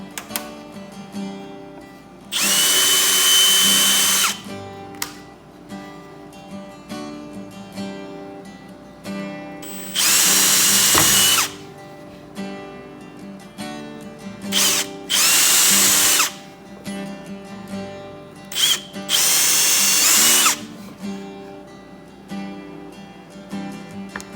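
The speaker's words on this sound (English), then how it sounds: "my plan is to use about the same size drill bit here as the threads." A power drill bores holes with a thread-sized bit in a garage, its high whine coming in four loud bursts of a few seconds each, separated by quieter handling noise.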